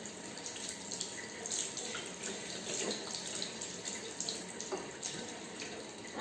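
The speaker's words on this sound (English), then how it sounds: "clean your comb with the water" Tap water runs steadily into a sink while a comb is rinsed under it at home, a continuous hissing splash with small shifts as the stream is interrupted, close by and faint, with no talking.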